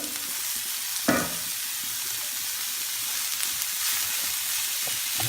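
Meat browning in a hot pan after onions have softened, a steady broadband sizzle with a sharp burst of hiss as it goes in and occasional stirring scrapes, close and continuous with no talk.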